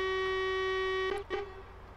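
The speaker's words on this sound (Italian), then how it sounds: "questo è bello questo clacson qua" A video game truck horn blares in one long, steady, loud tone for about a second, then cuts off, followed by brief faint noises.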